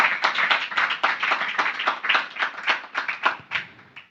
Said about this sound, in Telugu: 2 చేతులతో చప్పట్లు కొడదాం